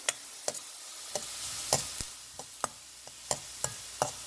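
Spices crackle and sizzle in hot oil while cooking a spinach rice dish, with sharp pops scattered irregularly over a steady frying hiss, close and fairly quiet.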